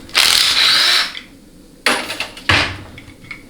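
A ratchet works the 8 mm bolt on the speed sensor of a GM 4L60E transmission during teardown: a long buzzing run of clicks, then two shorter bursts, close and loud, with no talk.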